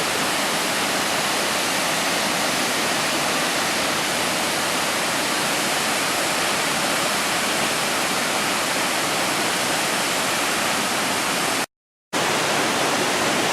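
Tempesta Falls at Tallulah Gorge State Park roars as a steady, loud broadband rush of falling water from near the top of the falls, continuous except for one brief cut-out near the end.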